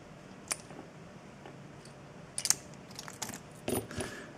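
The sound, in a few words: unlocking an Assa Desmo mini padlock with its key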